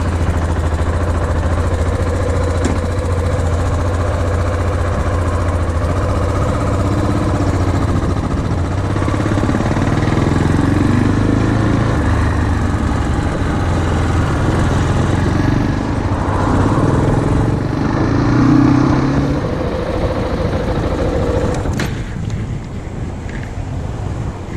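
A KTM supermoto motorcycle cruising on an open road, its steady engine drone buried under heavy, continuous wind buffeting on the microphone, with a brief shift in tone near the end.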